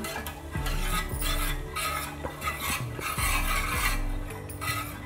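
A pan of milk for carrot vermicelli payasam being stirred continuously, a spoon scraping and sloshing in steady repeated strokes with a low hum beneath, close and fairly even in volume.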